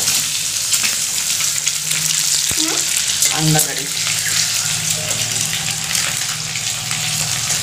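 Eggs frying in a pan on a home stove, a steady soft sizzle running throughout with occasional clinks and scraping of a utensil, and a brief voice murmur in the middle.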